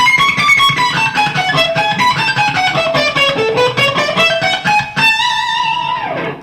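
A distorted electric guitar lick runs quick sweep-picked arpeggios high on the neck, with fluid descending and rising note runs that end in a sustained, bent final note, loud and alone.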